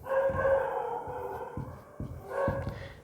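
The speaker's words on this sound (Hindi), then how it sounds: "मेरी वीडियो का टाइम और ये डॉगीज़ के भौंकने का टाइम एक ही टाइम होता है" Dogs barking outdoors at a distance, a run of repeated barks with short gaps, moderately loud and heard alone without talk.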